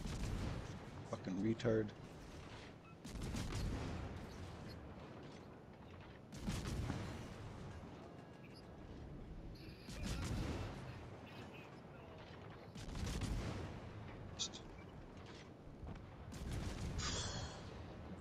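Naval guns of warships boom at a Shimakaze destroyer in World of Warships Legends, a series of deep, widely spaced salvos rolling out every few seconds, with someone talking between and over them.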